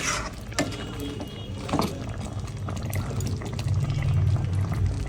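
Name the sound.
milk being poured into biryani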